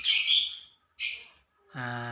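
Pet African lovebirds give two sharp, high chirps in quick succession, followed by a lower, buzzier sustained call, close and clear against an otherwise quiet background.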